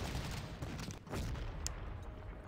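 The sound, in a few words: artillery fire in the video game Panzer Corps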